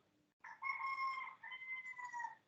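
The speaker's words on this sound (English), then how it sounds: "I heard the cock crow in the background." Far off behind an online call in Accra, Ghana, a rooster gives a single stretched crow in two connected parts, faint but clear against a quiet background with no voices.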